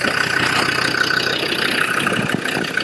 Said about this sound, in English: As far as noise from the engine goes, it's going to be difficult to pick up